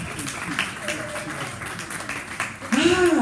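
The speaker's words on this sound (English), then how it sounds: "Give yourselves a round of applause!" An audience at a Scoop's Theatre of Books evening applauds in a dense, steady wash of clapping that swells toward the end, with voices talking over it.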